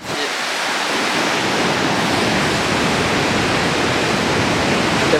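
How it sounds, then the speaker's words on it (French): Waterfall cascading during a hike in Canada, heard as a steady, dense roar of rushing water, close and constant throughout with no voices. "Cascade d'eau."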